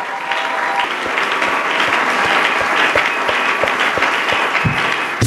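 A church congregation at a Sunday worship service claps and cheers loudly together, a dense, steady wall of applause filling the whole stretch with sharp individual claps popping through.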